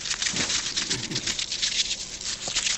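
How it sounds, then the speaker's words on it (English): A rapid, dense clatter of many tabletop role-playing dice poured out of a bag, tumbling and rattling together, fairly close and continuous. "I'm just pouring out my dice bag."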